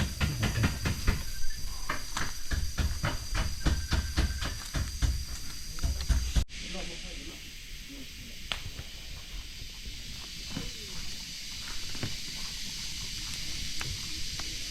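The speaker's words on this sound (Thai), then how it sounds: "เดี๋ยวนี้มันฝนตกจุดอย่างนี้" Steady hiss of falling rain with scattered drips and taps, a sudden drop in level partway through, faint voices now and then.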